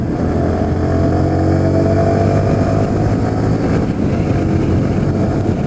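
A Yamaha R15 V3 motorcycle engine running on Liqui Moly oil is held at higher rpm. It gives a loud, steady, close buzzing drone with slight rises in pitch and no speech.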